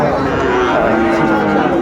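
Sahiwal bull calf, about eight months old, at a cattle market in Sylhet, heard amid a dense, steady crowd din with voices talking throughout and low lowing mixed into the noise.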